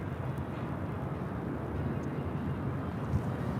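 A Delta airliner taking off from runway 24 left at LAX, heard as a steady low distant jet roar with wind-like rumble, no voices.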